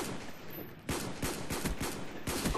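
Video game gunfire in quick bursts, loud close shots in an irregular rhythm after a brief lull, with no speech.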